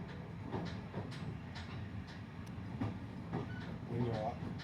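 Train ride aboard a class 55 diesel locomotive, heard from inside a carriage: steady low rumble with faint rhythmic clatter, fairly quiet, with voices talking over it.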